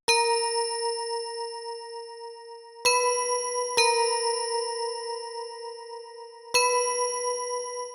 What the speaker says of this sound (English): this other bell we got is just the classic Zay bell